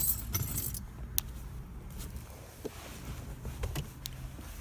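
Faint metallic jingles of car keys come in scattered light clinks as someone rummages for a flip key inside a Sonic, with a low hum of the vehicle in the background.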